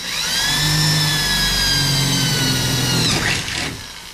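A power drill bores holes into a patio awning gutter: a steady, loud motor whine holds for about three seconds, then cuts off with a brief scraping rattle as the bit pulls free.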